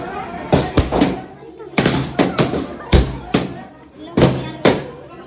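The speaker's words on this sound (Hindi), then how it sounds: "ये देखिए बलून फूटना स्टार्ट हो गए" Balloons burst at a birthday party in Gorakhpur, about nine sharp, loud pops arriving in quick clusters with short gaps between, over a murmur of voices in the room.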